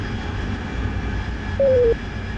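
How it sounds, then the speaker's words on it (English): A jet aircraft in the DCS World combat flight simulator, loaded with cluster bombs, holds a steady, dense engine roar throughout, with a short electronic tone sounding briefly near the end. "going to do a very fast flyby, see if I get lit up or shot at by anything"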